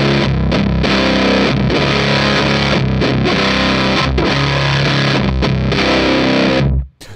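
Bass guitar played through a Black Arts Toneworks Priestess pedal set to clipping mode one, giving a loud, thick, distorted tone with chunky riffing notes and brief gaps, then cut off abruptly near the end.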